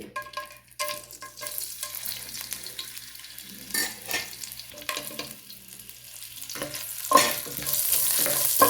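Cinnamon, cardamom and cloves fry in hot oil for mutton kurma, a soft crackling sizzle broken by scraping stirs and clinks of a pan, growing louder toward the end.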